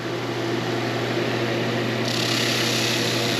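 A Flatmaster drum sander works resawn pallet wood with 220 grit paper, giving a loud, steady motor whine and continuous abrasive hiss that brightens partway through as the stock feeds in.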